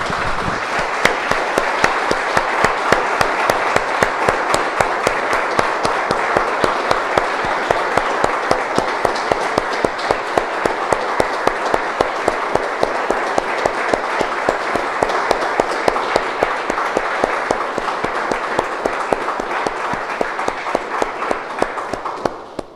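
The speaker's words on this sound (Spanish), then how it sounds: "Damos un aplauso," A church congregation applauds together during a worship service, producing a loud, steady burst of rapid clapping that holds at an even level for the entire stretch, with no voices breaking through.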